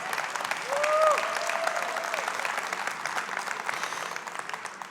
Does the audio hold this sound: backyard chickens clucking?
no